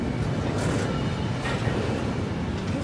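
A long train rumbles past at a rail yard in Fostoria, Ohio, a dense, continuous roar of wheels and cars that stays loud and steady throughout, with no voices over it.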